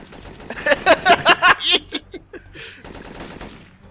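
Gunfire in the game Syphon Filter: a rapid automatic burst of about eight close, loud shots, then a few sparser fading shots and a brief quieter stretch.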